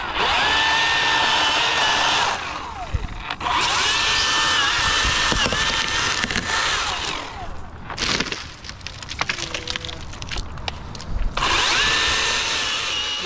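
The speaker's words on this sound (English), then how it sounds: "I just cut that limb." A powered saw, likely a chainsaw, cuts through a tree limb outdoors, whining loudly and steadily in three long bursts with rougher, crackling pauses between them, close to the microphone and without speech.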